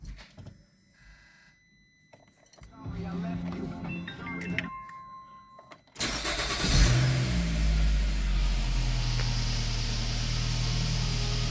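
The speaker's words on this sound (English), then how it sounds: "Now we get in our car and we start it up and go through the gears." A 2.5-litre Nissan X-Trail T31 with CVT gearbox cranks and fires up midway after some quiet rustling and clicks inside the cabin, then settles into a loud, steady idle with a brief rev.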